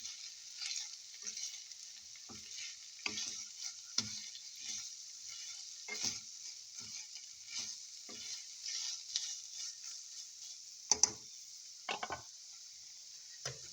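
Shredded beef being stirred in a pan for Maguindanao pastel beef: a faint, constant sizzle runs under scattered soft scraping stir strokes, with a few louder clanks of the utensil near the end.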